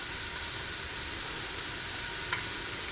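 Beef for lasagna browns in a pot with a dense, even sizzle and hiss, close and continuous, with one faint tap near the end.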